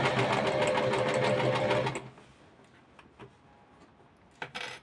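A sewing machine stitches the fabric of a zipperless cushion cover, running loud and steady for about two seconds before stopping, followed by faint clicks and a couple of brief mechanical knocks.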